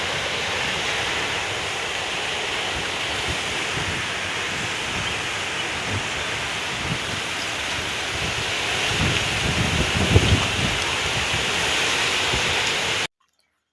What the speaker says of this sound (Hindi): आंधी बहुत आ रही है।